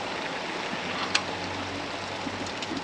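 Steady rushing water from a farm irrigation pivot fills the background with a broad hiss, holding constant throughout, with a single brief click partway through as a safety trips and the water shuts off.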